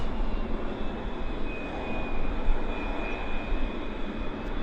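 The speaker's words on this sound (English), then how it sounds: "Let's see if we can get the Reggie on this beautiful Boeing." A Boeing airliner's jet engines roar at Vancouver Airport in a steady, broad, distant rumble with a faint high whine running through it, holding evenly for nearly five seconds with no voices.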